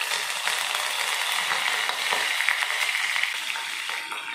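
Mustard seeds and cumin spluttering and crackling in hot oil for a Tamil sambar tempering, a dense, steady sizzle with rapid popping throughout, close and loud with no voices.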